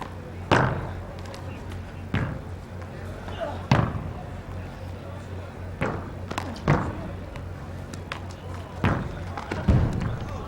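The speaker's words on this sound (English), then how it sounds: "at that shot right there from Dave Chapman, banging into the wall and getting that right corner kill" A wallball striking the wall in an outdoor three-wall men's semifinal at the 2010 WPH World Championships, heard as a series of sharp, loud thuds spaced a second or two apart, with commentary in the background.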